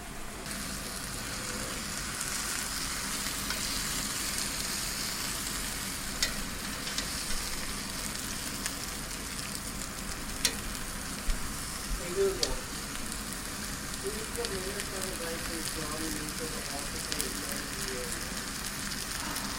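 A steak coated in mayo sears in a hot pan, giving a steady, even sizzle throughout with occasional faint pops and clicks, close and continuous.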